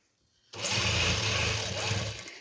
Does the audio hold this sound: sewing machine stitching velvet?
yes